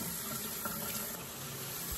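Hot water runs from a tap inside a wilderness cabin in Canada, a steady, fairly faint flow that continues without a break, with no one speaking.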